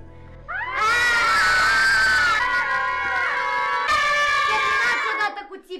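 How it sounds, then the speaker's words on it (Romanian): Children at a home party shriek loudly and without a break for several seconds, a shrill, sustained scream with shifting pitch, very close and with no talking over it. "Terminați odată cu țipul!"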